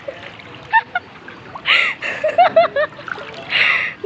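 Legs wade through knee-deep flood water, with irregular nearby splashes and sloshing under bursts of voices.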